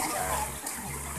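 Water from a natural spring at Tubod-Mahayag Spring runs in a steady close wash, a continuous splashing flow like a filling tub, with no talk over it.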